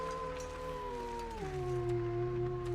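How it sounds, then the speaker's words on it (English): A wolf howls in a video game, a single loud, sustained tonal cry that slides downward in pitch midway and then holds, heard alone over a steady background hum. "There's wolves here."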